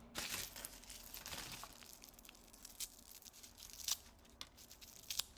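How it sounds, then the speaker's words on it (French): Plastic packaging around a marker ring being torn open and crinkled up close, with sharp rips and rustling bursts coming and going over about five seconds. "Il faut que je le déballe ça pour vous montrer."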